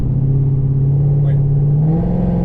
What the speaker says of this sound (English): the way my truck was driving was it was sputtering like this a lot